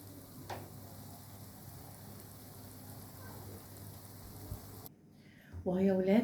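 A crepe fries in a lightly oiled pan, giving a steady soft sizzle that runs without a break. A voice rises in the last second.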